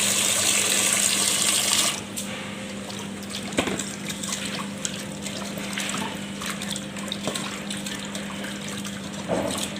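Beef pieces washed under a running kitchen tap, with a loud steady rush of water and occasional splashes and knocks of meat and bowl, strongest in the opening seconds.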